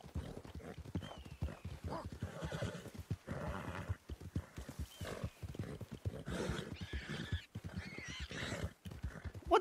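Horse in Red Dead Redemption 2 whinnying and neighing repeatedly alongside clip-clopping hooves, fairly close and loud, with other animal noises and a brief bit of talk mixed in.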